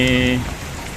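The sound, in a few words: heavy rain falling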